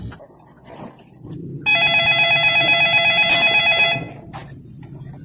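Telephone ringing loudly, a steady electronic trill lasting a couple of seconds, close by in a room with faint background noise before and after.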